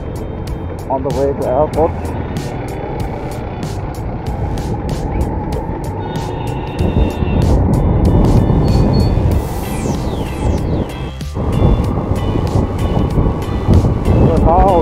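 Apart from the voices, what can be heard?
car driving on a road in Bhaktapur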